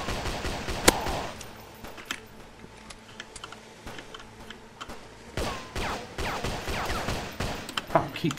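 Gunfire in a first-person survival shooter during a raid on a container ship: scattered sharp shots and bursts of clicking impacts, loud at the start and busier toward the end, with a voice speaking briefly among them.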